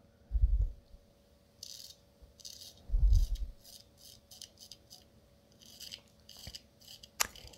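A restored straight razor scrapes across a beard in a series of short, crisp rasping strokes, heard up close with soft thuds and pauses between passes.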